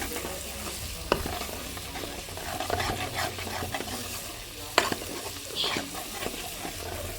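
Spice masala of ginger and garlic frying in a pan while a spoon stirs it, giving a continuous sizzle broken by scraping strokes and a couple of sharp clinks, with no voices.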